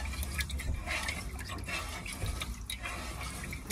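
Water pours and splashes continuously while rice is being washed, a close, steady trickle with small drips and sloshes and no voices.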